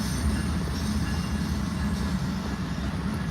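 Mainline freight train with its locomotives running long hood forward, rolling past in winter in Ottumwa, Iowa: a steady, loud rumble of rail cars with continuous wheel noise and a faint squeal, no talk.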